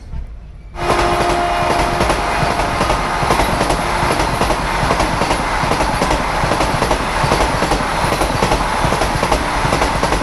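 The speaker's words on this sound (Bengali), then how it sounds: "new Jalpaiguri Howrah Vande Bharat express king of this route" New Jalpaiguri–Howrah Vande Bharat Express rushes past at close range, arriving abruptly after a quiet moment and then a loud, sustained roar of wheels and rushing air with rapid rhythmic rail clatter.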